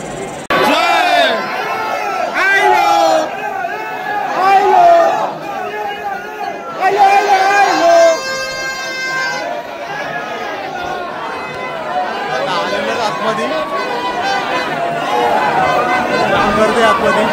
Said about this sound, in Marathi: भरपूर गर्दी झाली आता.